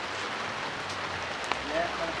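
Rain falls outdoors in the UK as a steady hiss of drops pattering on surfaces, with a voice speaking over it.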